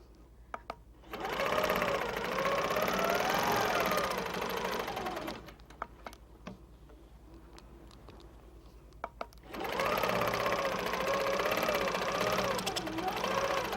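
A sewing machine quilting around a clamshell ruler template runs in two long steady stretches of fast stitching, close and loud, with a quiet pause between them.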